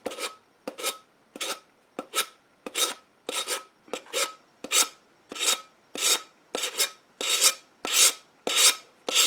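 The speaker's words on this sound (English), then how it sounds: "just sand that down" Steady, rhythmic rasping of sandpaper scraping along an edge of rice paper, around sixteen quick strokes in a row, close and clear with no talking.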